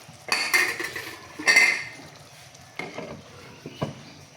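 Vegetable and meat khichuri stirred in a pot, with a spoon clanking and scraping against the metal in a few loud strokes over a faint sizzle, then quieter scrapes.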